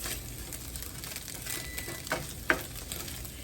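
Eggs fry hard in a pan for shrimp fried rice, a continuous close sizzle with a couple of quick scraping taps from a utensil cutting them into pieces.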